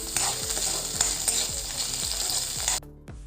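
Capsicum, cut potatoes and mixed vegetables fry in a pan for a paneer dish, with steady loud sizzling and repeated stirring scrapes, alone with no talk, the sizzle cutting off near the end.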